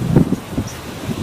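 Strong outdoor wind gusts and rustles through leaves in the Philippines, a brief, close, buffeting whoosh with bursts of wind noise hitting the microphone.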